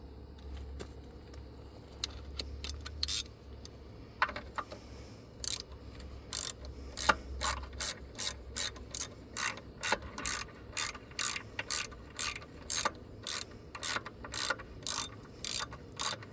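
Repeated ratchet clicks from tightening the starter bolts on a 2011 Ram 2500 with the 5.7 engine, coming in quick bursts of rapid ticking, close and steady over a faint background hum.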